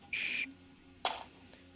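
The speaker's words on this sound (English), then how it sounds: "this obnoxiously loud whistle that came on the Mk2 SD card" A shrill, loud whistle included with a Prusa Mk2 3D printer SD card gives two short blasts, the first a steady tone lasting about a third of a second, the second a brief warbling burst, then a faint chirp.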